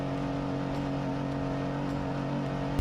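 An old truck's engine grinds steadily up a big sand hill, a loud continuous low drone with strong steady harmonics and little change in pitch, no voices over it.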